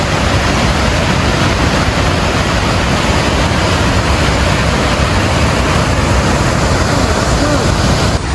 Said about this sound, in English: You want to overlook the waterfall, that's cool.